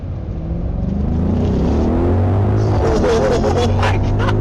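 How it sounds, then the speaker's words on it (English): A 2021 Audi SQ8 launches from a standstill, its engine rumbling loud and close as it pulls hard and the revs climb steadily. "So now I'm going to try and launch this car and see how quick this car really is."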